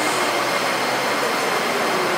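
A Seoul U Line light rail train rumbles loudly and steadily as it pulls into a station with platform screen doors, a continuous rushing mechanical roar with no voices.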